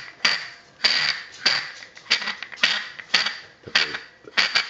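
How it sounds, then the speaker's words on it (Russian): The head of a Niwalker Black Light Vostro flashlight being unscrewed, its threads rubbing against a rubber gasket, makes a repeated squeaky creak about every half second, close and clear with no voices over it. "Такой любопытный звук образуется при откручивании взаимодействия резьбы с резиновой прокладкой"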